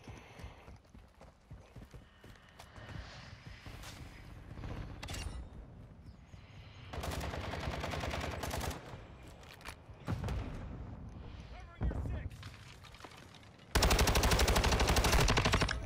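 Rapid bursts of gunfire in the shooter game Modern Warfare 2, with a loud, dense barrage near the end, over continuous busy game noise.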